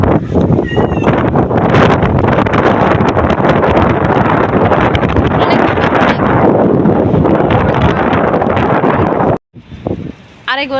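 Loud, strong wind roars and buffets the microphone almost continuously, then cuts out abruptly near the end before a short gust returns.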